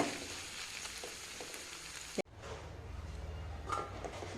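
Okra (lady's finger) stir-frying dry in a pan: a steady, close sizzle with faint stirring scrapes, broken midway by a sharp clatter and brief dip before the frying hiss resumes, fuller and lower.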